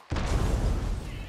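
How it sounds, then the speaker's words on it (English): A thrown grenade explodes in Hunt: Showdown with a single sudden loud boom, followed by a heavy rumbling roar that slowly decays. "I'm gonna huck a grenade up there"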